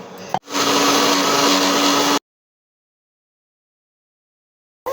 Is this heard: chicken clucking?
no